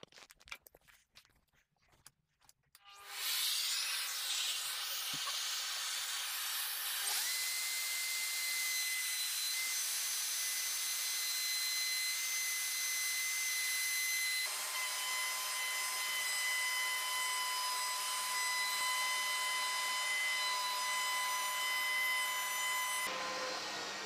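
An Erbauer ER2100 router fitted with a quarter-inch shank bit cuts a workpiece clamped to a bench. After a few quiet seconds of handling it spins up to a loud, steady high-pitched whine that holds, with small shifts in tone, as the cut proceeds.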